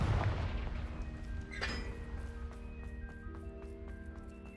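The Confringo fire spell from Hogwarts Legacy goes off in an explosive burst, followed by a second sharp blast and ringing magical tones that fade out.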